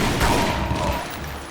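Gunfire rattles in the video game Tomb Raider Legend, a short dense burst of rapid shots over a muffled rumbling game background.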